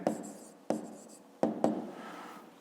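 Pen writing an answer in a school maths notebook, four or so quick scratchy strokes at an even pace, close and quiet with no voice over them.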